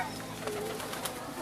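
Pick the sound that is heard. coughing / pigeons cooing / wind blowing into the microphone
pigeons cooing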